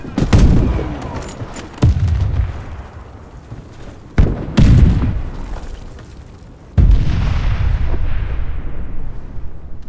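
Grenade and other explosions in the online shooter game Warface: several loud booms burst at intervals, each followed by a rumbling decay, amid ongoing battle noise.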